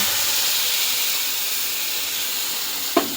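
Whole spices (coriander seed, bay leaf, cloves, cardamom and cinnamon) hitting hot oil in a pan for a fish curry, giving a steady, bright sizzling hiss, with a single short clack near the end.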